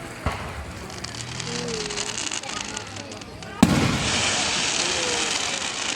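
Fireworks at a 2024 Fourth of July show in Marion, Indiana, with a sharp close burst followed by a loud crackling, rain-like shower of sparks and scattered pops, under occasional talk from nearby spectators.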